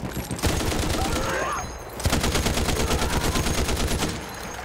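Automatic weapon fire from the World War I shooter Battlefield 1 sounds in loud, rapid, sustained bursts, with a brief lull before another long stream of shots.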